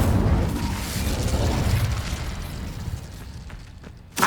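An Incendio fire spell in Hogwarts Legacy erupts as a loud whooshing burst of flame, then rumbles and fades over several seconds before a sharp new burst at the very end.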